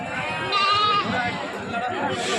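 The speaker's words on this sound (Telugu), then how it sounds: "సిరోహి జాతికి సంబంధించిన మేకలు మన గూడూరు సంతలో అమ్మకానికి వచ్చేసి ఉన్నాయి ఈరోజు" Sirohi goats bleating at the Gudur sheep and goat market, several overlapping wavering calls close by amid a busy, noisy crowd with voices talking underneath.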